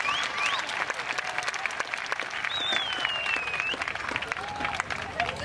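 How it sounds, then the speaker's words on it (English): Outdoor crowd applause at a JROTC Raiders state competition, steady clapping from many spectators with whistles and cheering shouts rising over it, voices mixed in throughout. "Y'all need to give them a round of applause."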